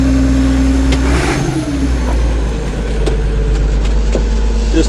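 An International 1086 tractor with factory cab and 8-speed transmission idling nearby, a loud steady diesel rumble with a slight rise in revs early on and faint clanks over the drone.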